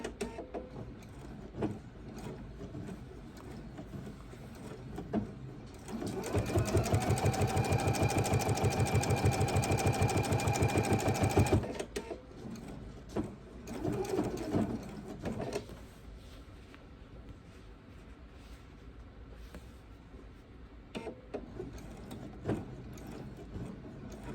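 Sewing machine stitching around the seam of a fabric bowl cozy with a denim needle, a rapid steady whirring run of about five seconds, preceded and followed by quieter handling noises.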